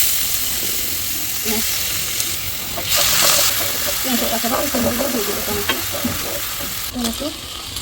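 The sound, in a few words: chicken frying in a pan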